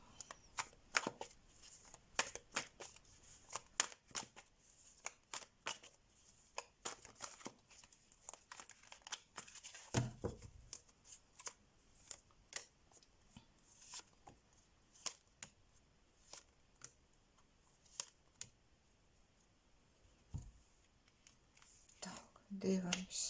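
A second deck of playing cards is shuffled and handled at close range, giving quiet, irregular crisp riffles and papery rustles with occasional taps, faint whispering or soft talk in the background.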